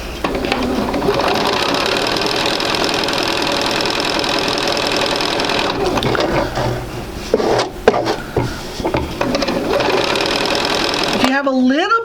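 A domestic sewing machine runs steadily as it stitches a quarter-inch seam along the white edge of fabric, its close, continuous mechanical whir holding for about eleven seconds before stopping.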